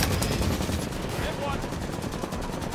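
A mounted turret firing in Halo 5: Guardians, loud rapid bursts of automatic gunfire up close that go on steadily with battle noise and game voices mixed in.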